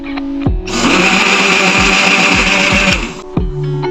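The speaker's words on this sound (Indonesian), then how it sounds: "On the blender. Wait a few minutes later, then turn off the blender." A kitchen blender whirs loudly for about two and a half seconds, blending oranges, sugar and water into juice; it spins up sharply, holds a steady high whine, then cuts off, close by with no talking.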